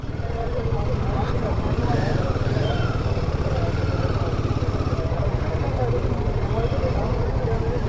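A Royal Enfield Himalayan 450 engine drones steadily under load, a close, continuous pulsing rumble as it pulls up a steep slope in Uttarakhand, with a voice talking over it.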